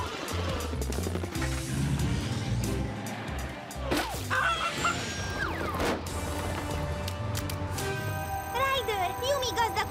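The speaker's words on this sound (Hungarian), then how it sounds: "Két csirkét kergetünk, és meg is vannak" Chickens cluck and squawk amid a busy animated cartoon soundtrack of crashes, engine noise and music, with characters talking over the commotion.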